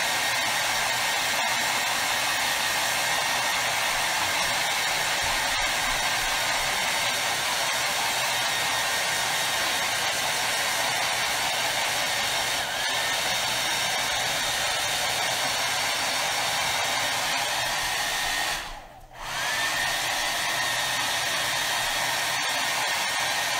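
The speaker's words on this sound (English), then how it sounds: "I'm going to use the hair dryer" A hair dryer blows steadily and close on drying homemade date-block dice, a constant broadband whoosh that cuts out briefly near the end before resuming.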